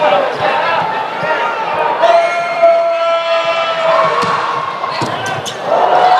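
A crowd cheers at a Hawaii men's volleyball match between UH Mānoa and Emmanuel, a loud and sustained roar with whistles and court sounds mixed in.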